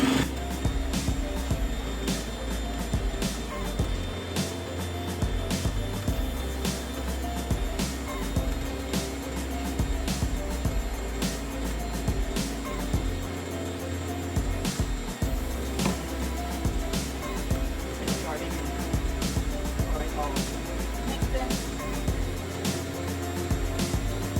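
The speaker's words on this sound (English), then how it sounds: "So let's start our mixer one more time." An electric mixer blends peach cobbler batter after baking powder is added, its motor giving a steady, loud whirring drone that runs without a break for the whole stretch, with no talking.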